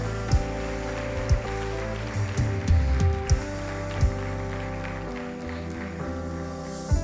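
A church congregation claps along over sustained, swelling worship music. The hands make a soft, rain-like wash with occasional sharper accents beneath the musical tones.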